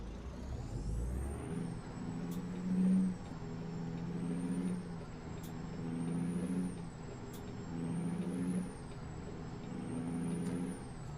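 Truck engine and air brakes in American Truck Simulator, a steady low diesel drone with repeated rising and falling tonal swells and brief sharp hisses at regular intervals, fairly quiet, with no talking.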